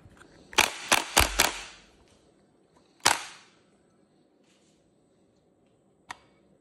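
Sinden light gun being pumped back and fired while set up for Batocera retro gaming: a quick burst of four sharp clicks, then a single louder snap and a faint final click, close and alone with no talk.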